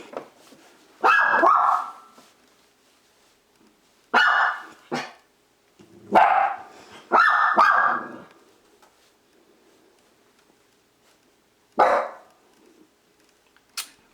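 Several sharp dog barks come in bursts, some doubled, with long quiet gaps between them; no talking.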